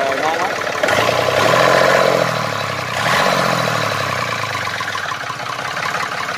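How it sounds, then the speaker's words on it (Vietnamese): A used machine's engine idles with a steady knocking rumble, loud and close, swelling and easing twice while people talk over it. "Động cơ thì còn ngon lắm."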